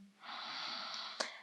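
A single slow, audible breath during a yoga session, a soft airy rush sustained for about a second and ending with a brief sharper puff, close and quiet with no talking.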